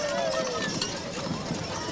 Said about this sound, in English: riding in a historic trolley. They have 5 horses hooked up there